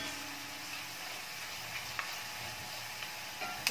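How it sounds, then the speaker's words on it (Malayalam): Ginger fries in hot oil for an Onam sadhya inji curry, making a faint, steady sizzle with a few light stirring clicks. "ഇഞ്ചി വറുത്ത് ഡ്രൈ ആയി വന്നു തുടങ്ങി"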